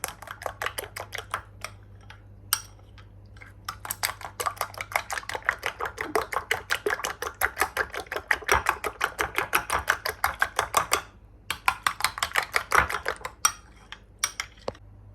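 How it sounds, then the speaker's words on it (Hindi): Eggs mixed with salt, chili and turmeric are beaten briskly in a bowl, giving a fast, steady run of clicking and tapping strokes, close and fairly quiet, with short pauses. "अंडे को हमने अच्छी तरह फेंट लिया है"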